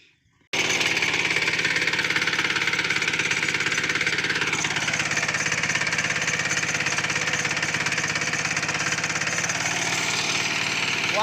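A small engine on a farm implement jury-rigged for earthing up soil around cotton plants starts up and runs loud and steady with a rough, knocking idle, close by, no talk.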